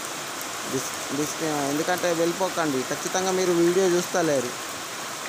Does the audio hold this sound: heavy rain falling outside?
yes